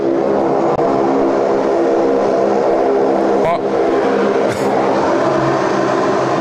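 Loud, continuous drone of a Saab turboprop at Sydney Airport, a dense engine and propeller roar holding steady close by, with brief crackling radio bursts near the middle.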